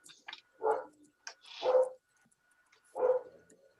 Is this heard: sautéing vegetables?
no